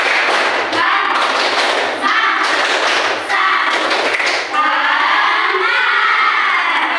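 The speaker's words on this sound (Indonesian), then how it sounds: "Kita sedikit tepuk-tepuk ya. Tepuk semangat namanya." A school class performs a rhythmic spirit clap, loud group clapping and chanting in bursts of beats, with children's voices shouting along before the rhythm gives way to cheering.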